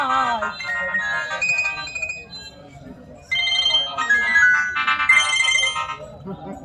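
A mobile phone rings with a repeating melodic electronic ringtone, fairly loud and close, playing in two phrases with a short gap between them.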